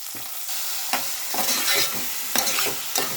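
Onions and potatoes frying in oil in a pot while being stirred, a loud close sizzle broken by several scraping stir strokes, with no talking.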